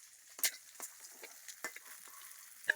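A large fish fries crisp in oil in a pan for a Bangladeshi fish curry, with faint crackling and sporadic soft pops and spatters over a quiet background.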